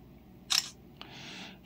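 A single crisp electronic camera shutter click from an LG G Stylo phone, quiet and close, followed by a soft whooshing tail.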